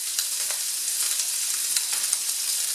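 Puff pastry filling browning in a hot pan, a continuous bright sizzle and crackle with scattered popping spatters, close and steady, no voices.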